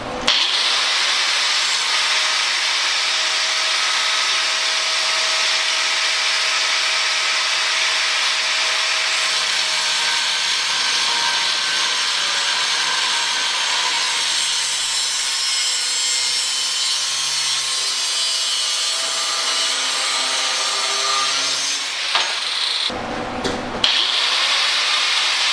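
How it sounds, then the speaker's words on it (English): Angle grinder slicing off metal on a welding cart, a loud sustained high-pitched whine that runs steadily for over twenty seconds before cutting off, followed by a few clanks. "I'm just going to slice that off with the angle grinder"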